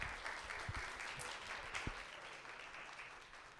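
A conference audience applauds after a keynote, dense clapping from many hands that starts strong with a few sharper nearby claps and then slowly thins and softens toward the end.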